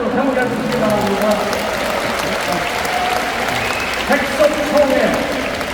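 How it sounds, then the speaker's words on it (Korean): Congregation applause at a church denomination anniversary gathering, a steady wash of clapping mixed with a voice speaking over it and a few louder bursts near the end. "뜨거운 박수로 평가해 주시기 바랍니다"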